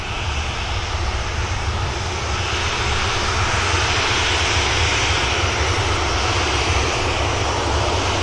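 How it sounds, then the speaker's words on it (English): Ryanair jet engines spooling up after touchdown at Manchester Airport, a loud, continuous broadband roar with a steady rushing whine that holds throughout, with no talking. "Ryanair's waiting for this touchdown, then it'll spool up."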